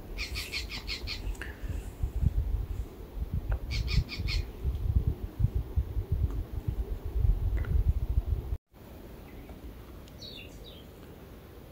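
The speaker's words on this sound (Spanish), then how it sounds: "Viendo un pajarito enojándose que estoy acá." A small bird squawks angrily in repeated harsh bursts outdoors in a lemon grove, fairly close, over a steady rustling background with a brief cut near the end.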